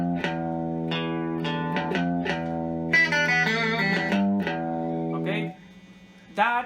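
An electric guitar plays a distorted grunge lick, with sustained, buzzing bent notes and a brighter high-pitched run before the sound cuts and a final short stab rings out.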